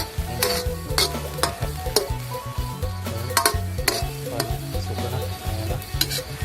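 Grasshoppers dry-roasting in a hot pan, with a steady sizzle and repeated scraping stirs of a utensil against the metal, close and loud, in a rhythmic back-and-forth with no talking.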